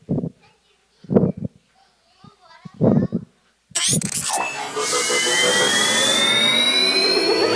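A time machine starts up as a sound effect, a sudden loud whirring roar like a jet engine that kicks in midway and keeps building with a rising metallic whine. Children's voices speak in short bursts before it starts.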